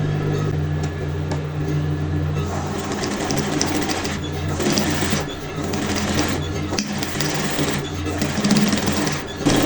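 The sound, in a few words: sewing machine stitching embroidered fabric on a dress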